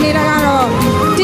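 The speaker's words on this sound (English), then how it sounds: "you can hear the crowd getting really excited" Stadium crowd at the 27th SEA Games opening ceremony in Myanmar, cheering excitedly as a dance is staged; a dense, continuous roar of voices with rising whoops, steady and loud throughout.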